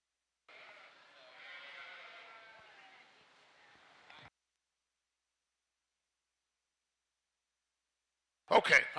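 A yearling Shropshire ewe at a youth breeding sheep show gives one drawn-out bleat lasting several seconds, followed by silence and then a brief loud clatter at the end.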